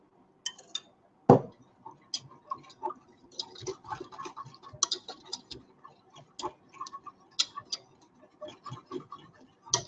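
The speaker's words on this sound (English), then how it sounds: "Whisking vigorously." A whisk beats a sauce in a bowl in a French cuisine kitchen, with quick irregular metallic clicks and taps of wire against the bowl, close and clear with no talk.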